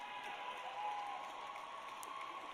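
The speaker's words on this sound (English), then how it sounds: "You can keep applauding, sure." Audience applause at the SUNY Adirondack and SUNY Plattsburgh 2024 commencement ceremony in Queensbury, a soft, distant, continuous patter of clapping from a large crowd, with no one speaking over it.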